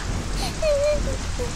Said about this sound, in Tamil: மழை அதிகமா பெய்யுது